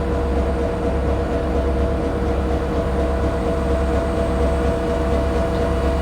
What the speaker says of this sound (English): there's a train heading, intermodal heading south there.